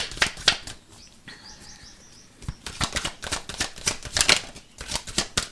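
Tarot cards being shuffled and drawn, with rapid riffling flutters and soft slaps in close, uneven bursts, separated by a brief quieter pause.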